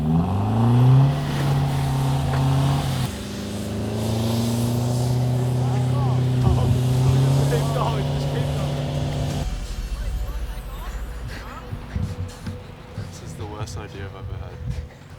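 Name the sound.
car tires slipping while the engine revs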